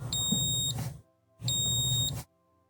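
A multimeter continuity test on a reed switch: two sustained electronic beeps, each lasting under a second, separated by a short pause, with a faint low hum underneath.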